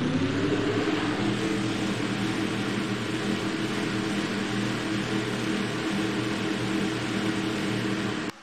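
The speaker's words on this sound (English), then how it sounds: "get the command to fire engines for the Dickie's 500 at Texas." Engines of a 40-car field roar together at the start of the Dickie's 500 at Texas in a stock-car racing video game, a dense, steady, loud drone that holds unbroken throughout.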